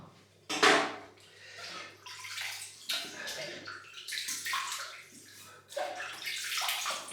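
Tap water running in bursts to soak a shaving brush before lathering shaving soap, splashing and gurgling near and fairly loud, starting and stopping several times.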